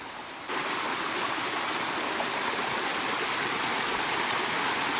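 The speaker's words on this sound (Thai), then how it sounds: "น้ำไหลตลอดปี" Continuous rushing water of a stream flowing steadily, a broad, even wash of sound with no voices.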